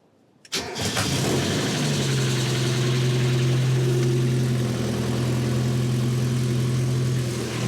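A car engine, unstarted for two years, cranks and fires, then settles into a steady, loud idle with a constant low hum running alone to the end.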